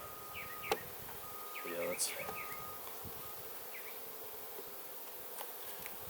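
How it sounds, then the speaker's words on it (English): Honey bees buzz around an open beehive in cold weather, a low steady hum under a brief spoken remark, with a few sharp taps and clicks of frame handling. "Plenty of bees."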